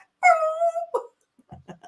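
A dog whimpers in a single drawn-out, fairly loud whine, followed by a few short, softer whines and yips nearby, with no talking.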